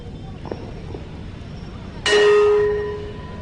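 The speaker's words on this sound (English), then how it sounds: "The bell signals the players come back on." A bell at an international polo match in Manipur signals the players back onto the field: one bright metallic clang rings out and decays over about a second, following a few soft knocks amid low crowd murmur.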